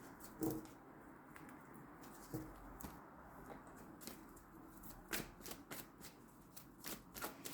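Tarot cards riffle and slide in a series of crisp, papery shuffling bursts, with soft snaps and taps as cards are handled and drawn, close and fairly quiet with no talking.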